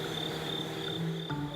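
Crickets chirp at night into dawn, a steady high-pitched trill with a faint frog-like croak underneath, even and moderately distant with no voices.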